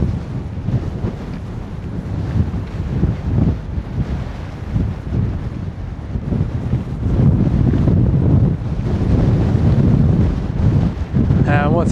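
Sea breeze buffeting the microphone on the coast at Stepper Point, a steady broadband roar of wind noise with gusts that swell louder toward the end, with the faint wash of the sea beneath.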